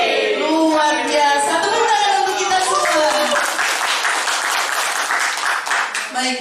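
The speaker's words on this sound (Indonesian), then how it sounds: "Tepuk tangan untuk kita semua." Clapping from a school audience at a teachers' positive-culture dissemination session rises under a voice, then a broad burst of applause carries on loudly to the end.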